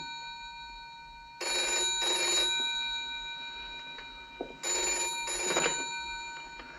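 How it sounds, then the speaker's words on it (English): A desk telephone bell rings in two distinct bursts, each about a second long with a bright metallic trill, separated by a short quiet gap in an otherwise still indoor room. "I was sitting at that desk when the telephone rang."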